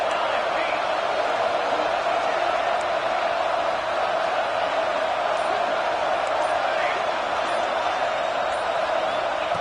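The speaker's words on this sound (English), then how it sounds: "the crowd really making some noise now, trying to help out this defense to get this stop near the goal line" A football stadium crowd roars steadily near the goal line as the home fans try to lift the defense, a loud, unbroken wash of cheering from a distance that holds at the same level from start to finish.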